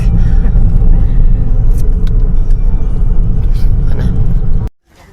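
Heavy road traffic near Batangas rumbles loudly and close for most of the clip before cutting off abruptly near the end.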